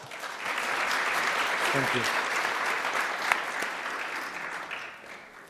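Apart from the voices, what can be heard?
audience round of applause for Mr. Burden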